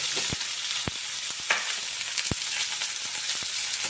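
Potatoes fry in hot oil with black cumin and green chili, a close, steady sizzle broken by sharp spatula taps and stirring scrapes against the pan, with no talking.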